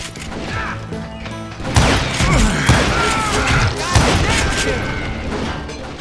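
Gunfire and thudding impacts in the Western shooter game Call of Juarez Gunslinger, dense bursts and booms over a game soundtrack, with someone talking over much of it.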